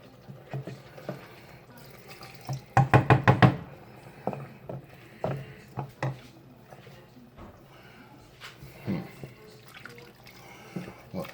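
Beef broth pours into a chili pot, a brief burst of glugging, splashing liquid near the start followed by quieter sloshes and drips in a kitchen.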